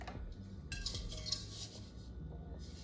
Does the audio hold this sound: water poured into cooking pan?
no